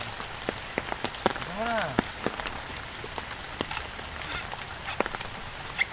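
Heavy rain with large drops pattering steadily on surfaces outdoors, dense and continuous with sharp individual impacts and a brief whooshing sweep, some faint voices in the background.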